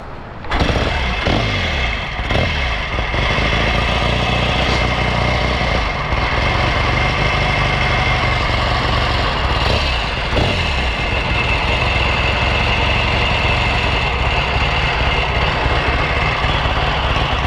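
A 1963 Royal Enfield Interceptor motorcycle engine idles steadily and loudly for the whole stretch, a constant close throb with a few faint knocks near the start.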